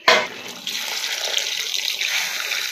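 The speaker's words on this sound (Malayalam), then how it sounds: "അപ്പൊ നമുക്കേ ഇനി ഇതിനകത്തെ ഒരു കുറച്ച് വെള്ളം ഒഴിച്ചു കൊടുക്കണം" Hot water is poured into a pot of Kerala village-style duck curry, beginning with a sharp splash and then settling into a steady, close liquid gush with no talking.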